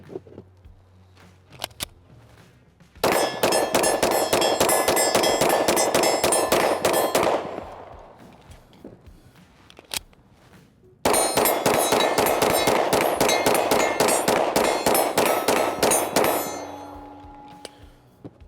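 Rapid strings of sharp, loud pistol shots from a carry-sized Smith & Wesson MR920P handgun fitted with a Vortex Defender ST optic, fired in two fast bursts separated by a short pause, with no talking.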